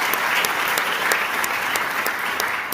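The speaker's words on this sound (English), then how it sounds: "Let's give another round of applause to our inductees, their families, and all who continue to make Kelso a beacon of excellence" Audience at the inaugural Kelso Highlander Hall of Fame celebration applauding the inductees and their families, sustained even clapping from a large crowd in a hall, with a few sharper individual claps standing out.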